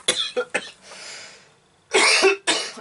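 A series of sharp coughs from a tickly throat, a few quick ones then a pause and two more harsh bursts, close to the microphone.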